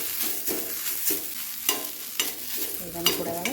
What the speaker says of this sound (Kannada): ಸ್ವಲ್ಪ ನೋಡಿ, ಕೊತ್ತಂಬರಿ ಕೂಡ ಎಲ್ಲ ಹಾಕಿ ಬೆಚ್ಚ ಮಾಡಿದೆ.